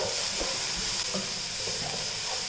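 Garam masala and turmeric powder sautéing in a hot pan, a steady close sizzle and hiss with occasional stirring scrapes and no talking.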